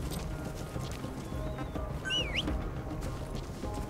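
A horse arriving in Metal Gear Solid V: The Phantom Pain, hooves clip-clopping steadily over a low background bed, and a brief high whinny-like call rises in the middle.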